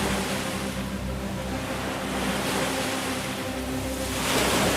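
Sea waves rolling in below a seaside cemetery, a steady broadband wash of surf that swells slightly toward the end, with no voices.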